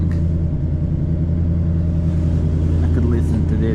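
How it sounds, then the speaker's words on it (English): Ford Mustang GT V8, a 2024/2025 European model, running close with a deep, steady exhaust rumble that swells slightly near the end, with a voice speaking over it. "Let's immediately start the car. And the engine sound, the exhaust sound is amazing."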